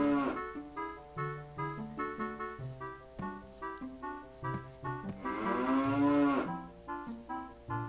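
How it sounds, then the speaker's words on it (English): A cow in the video game The Legend of Zelda: Ocarina of Time gives a drawn-out, wavering moo midway through, set against steady, busy game music. "the present is a cow"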